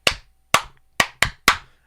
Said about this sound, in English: Some teachers use a clapping sequence,